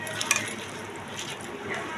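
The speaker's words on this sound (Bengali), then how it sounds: "ভালো করে মাখছি, একদম টমেটো, কাঁচা লঙ্কা" A spoon stirs a tomato, green chili and onion mixture in a pan with soft, close scraping and wet squelching and a few light clinks, all quiet and continuous.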